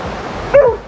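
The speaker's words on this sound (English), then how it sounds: "this dog barking" A single short dog bark or yip sounds close by, brief and sharp, at a campsite in the Columbia River Gorge, Washington.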